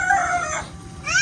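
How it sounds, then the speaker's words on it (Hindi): A rooster crows nearby in a village setting, its loud, drawn-out call rising and falling, then a second crow starting about a second later, clear and close with no voices over it. "ये मुर्गा पता नहीं कहाँ से आया, इतनी अजान दे रहा है"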